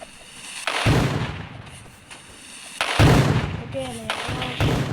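Gunfire and rocket launcher blasts in a video game, several loud booming bursts one after another, with someone talking over them.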